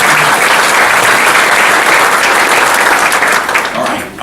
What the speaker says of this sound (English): How about a big round of applause for our sponsors here this morning?